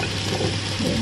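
Carrots and other hard vegetables sizzle steadily in a hot pan for chop suey, a close, continuous frying hiss with faint stirring.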